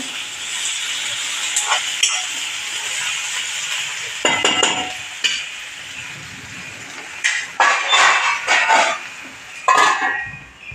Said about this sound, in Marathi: हा छानपैकी कांदा जरा परतून घेणार तर झाकण ठेवते वर